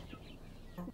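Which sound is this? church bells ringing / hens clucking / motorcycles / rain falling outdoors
hens clucking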